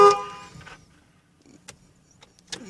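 A 2006 Silverado pickup's horn blares in a loud, short blast at the start, triggered through a starter disable switch, then fades into quiet cabin noise broken by a few faint clicks and taps.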